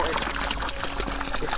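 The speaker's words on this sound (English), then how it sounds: "now we can hear the water dropping." Water from a pressurized pump line trickling and splashing steadily into a drum nearby, a continuous patter with no pauses.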